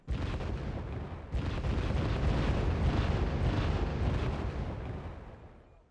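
Missile fire and explosions in the war strategy game Wargame: Red Dragon: a sudden heavy boom swells into a broad, rumbling roar that lasts several seconds and slowly fades, with no talking.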